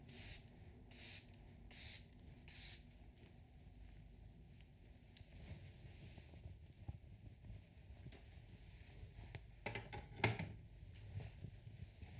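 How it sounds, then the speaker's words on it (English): A makeup setting spray bottle gives four quick hissing bursts in a row, close to the mic, followed by quieter rustling and soft handling sounds from applying soft glam makeup. "we'll spray this one more time"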